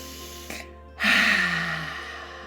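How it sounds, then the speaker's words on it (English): A single long, deep exhale during a guided breathing exercise: a sharp intake at the start, then a broad, breathy rush of air close to the mic that slowly fades, with no talking. "take 3 deep cleansing breaths in. On the exhale, really let that shit out"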